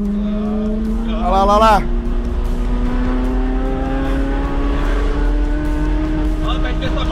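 A car accelerates hard along a street with rising engine revs and a rushing roar, loud and close. Excited voices shout over it.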